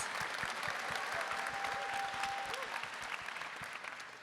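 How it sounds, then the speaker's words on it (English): A convention hall audience at a Star Wars Celebration panel claps steadily and warmly, dense overlapping applause from a large crowd that fades slightly toward the end. "A round of applause"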